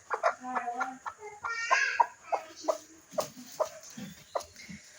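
A broody hen clucks repeatedly in short, evenly spaced calls, close and fairly soft, with a brief raspier trill partway through.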